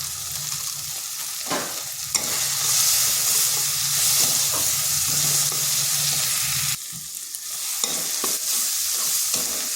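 Turmeric, chilli and coriander powders with Maggi masala fry and get stirred in a pan, making a loud, continuous close sizzle with scraping strokes that briefly drops in intensity near the end.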